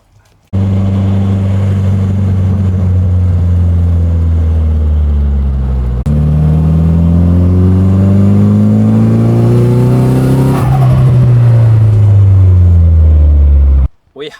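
A Nissan Silvia engine revs hard and close, its pitch climbing in long sweeps, briefly dropping, then rising again to a high peak before cutting off abruptly.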